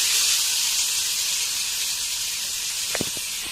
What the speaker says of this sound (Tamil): இது 1 நிமிஷம் லேசா ஆனியன் வதங்கட்டும்.